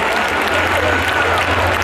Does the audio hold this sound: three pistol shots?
no